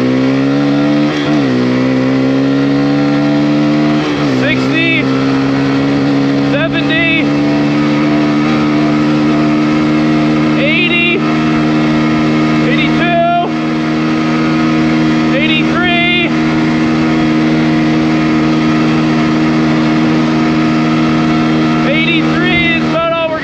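A stock Kawasaki KLX140RF dirt bike engine held at full throttle on a top-speed run, a loud steady high-revving drone with strong harmonics, dipping briefly at a few gear shifts, with wind noise throughout.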